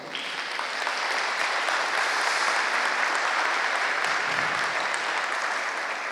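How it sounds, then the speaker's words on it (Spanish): A church congregation applauds together during a sermon, a dense, loud and sustained burst of clapping that fills the whole clip with no voice over it. "¿puede darle un aplauso al Señor?"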